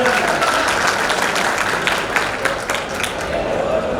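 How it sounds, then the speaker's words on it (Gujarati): An audience at a Raas Garba festival for disabled performers claps in a loud, steady burst of applause that fills the whole stretch without pause. "એ બધા માટે એકવાર જોરદાર તાળીઓ."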